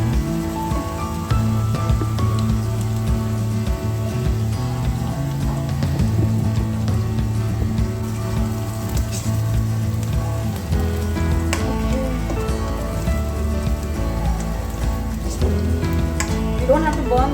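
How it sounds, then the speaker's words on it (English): Onions frying in hot oil in a rice cooker, a steady crackling sizzle that runs without a break and sits under a background hum. "Have to fry the onions"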